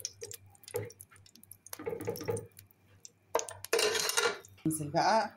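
A spoonful of ghee goes into a pot for vermicelli rice: a few sharp metal spoon clinks and taps, then a loud hissing sizzle burst near the end, with a voice talking between.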